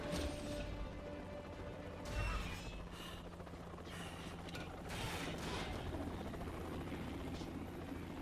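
A helicopter in the video game Metal Gear Rising: Revengeance gives a steady mechanical rumble and chopping whir, with grinding, ratchet-like clanks and swells throughout.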